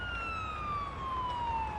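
Ambulance siren in a paramedic simulator video game, a steady high wail held continuously and slowly falling in pitch, moderately loud over a low traffic rumble.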